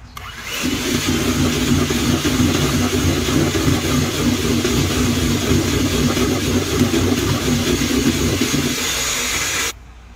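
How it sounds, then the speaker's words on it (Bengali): An electric hand beater whips egg yolks at high speed for cake batter, a steady loud motor whir running continuously for about nine seconds, close up and without speech, then cutting off abruptly. "এখন আমি আবার এটা হাই স্পিডে কীভাবে বিট করবো সেটা আপনাদেরকে দেখাই"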